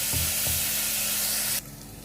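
Onions sautéing in a pan for mushroom kuzhambu give a loud, steady hiss that cuts off abruptly after about a second and a half, leaving a quieter background.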